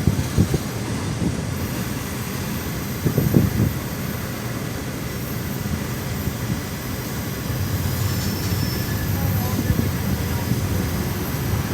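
CSX freight train with six locomotives heading into Demler Yard near the Duquesne Bridge, a steady low rumble rolling continuously throughout, with a few brief louder knocks near the start.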